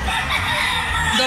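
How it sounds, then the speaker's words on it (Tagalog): Many chickens cluck and a rooster crows amid a busy farmyard din at a hobby expo, fairly loud and close. "Daming manok guys."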